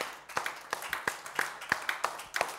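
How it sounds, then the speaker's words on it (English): Hand claps ring out in a church congregation, sharp evenly spaced strikes in a steady rhythm, fairly close and moderately loud over a quiet room. "Give the Lord a hand clap this morning."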